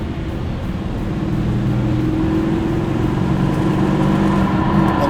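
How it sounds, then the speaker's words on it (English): 4WD fitted with an Ultimate 9 EVC throttle controller taking off, a steady engine drone with tyre noise that builds slightly over several seconds; no talking. "You can hear a little bit of wheel spin there."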